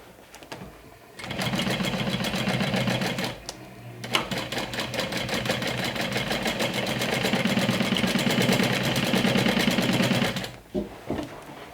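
A sewing machine runs steadily, stitching a half-inch seam on a beginner-friendly bag, with a brief pause partway through before the motor whirs again at close range, then stops near the end.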